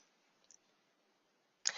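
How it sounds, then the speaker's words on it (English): A single sharp key click from an Enter key on a computer keyboard sounds near and crisp after near silence, with a faint softer tap just before. "So just go ahead and click the Enter key on your keyboard to execute that search."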